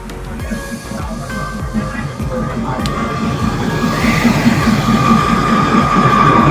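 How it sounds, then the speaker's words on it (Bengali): A train rumbles close by through the Maeklong Railway Market in Thailand with a steady clatter that grows louder, a crowd murmuring around it. "ভরা বাজারের মধ্যে দিয়ে ট্রেন চলে গেল"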